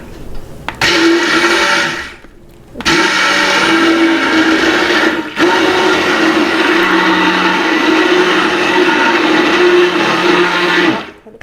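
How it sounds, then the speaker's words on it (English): A stick blender whirs loudly up close while blending soap mixture, stopping briefly twice and then running steadily for several seconds before cutting off. "You blend for a few seconds, but keep stirring with the wand"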